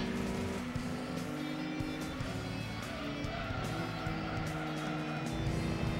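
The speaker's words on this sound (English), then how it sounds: "I had to apply the brakes a bit there, I was a bit too quick" Race car in Gran Turismo 2 braking hard, with steady engine roar and tire squeal continuing throughout, loud and close, with faint talk over it.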